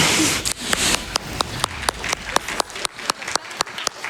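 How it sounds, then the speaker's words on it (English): An audience at a speedrun event claps, with scattered sharp individual claps rising over a thinning wash of applause that trails off into sparse, separate hits. "I guess I'm taking from the clapping that seems impressive."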